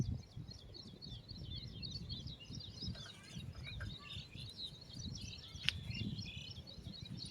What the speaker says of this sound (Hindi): चिड़ियों का आवाज़ आ रहा है यार